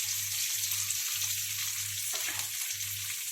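Onion and curry leaves sizzle and fry steadily in hot oil with mustard seeds, a continuous close crackling hiss with a low hum underneath and no talking.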